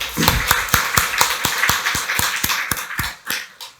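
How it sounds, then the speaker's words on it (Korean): A church congregation claps during a Sunday worship service, giving sharp, evenly spaced beats in a quick steady rhythm that sound close and loud and then taper toward the end. "박수로 하나님께 영광 돌리겠습니다."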